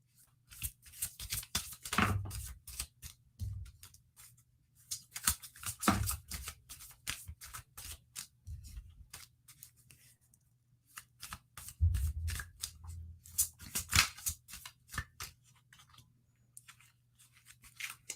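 Tarot cards being shuffled by cold hands in repeated bursts, quick riffling flutters separated by quiet pauses, close and fairly soft.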